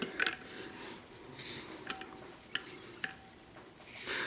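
Black dye being stirred into water to dye plastic parts: soft swishing and sloshing with a few light clinks of the utensil against the container, quiet and close, no talking.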